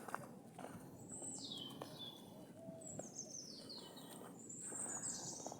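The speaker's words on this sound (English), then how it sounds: "Bird song is lovely." Faint birdsong in a community orchard, a few high chirping trills and calls drifting in from a distance over soft outdoor ambience and quiet footsteps.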